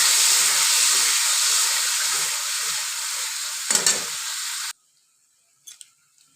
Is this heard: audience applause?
no